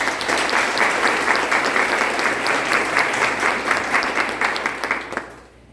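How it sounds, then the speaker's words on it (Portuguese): A church congregation applauding during a novena celebration for Senhora Sant'Ana, loud sustained clapping from many hands that carries on for about five seconds and then fades away. "uma grande salva de palmas."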